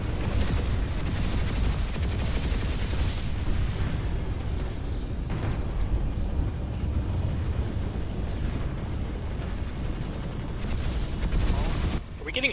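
Sustained gunfire and explosions fill a Bastion vs Bastion video game battle, a dense, loud, continuous roar of booms and shots with occasional sharper bursts throughout.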